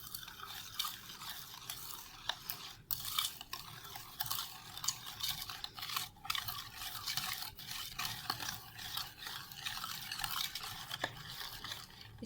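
Quiet, continuous scraping and clinking of a spoon stirring sugar into a bowl of creamy fruit chaat, with small sharp taps against the bowl scattered throughout.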